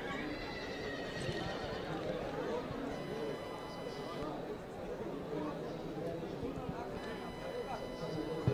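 A horse whinnies amid clip-clopping hooves and crowd chatter at a rural livestock exhibition, with an announcer talking over the moderately faint, continuous scene.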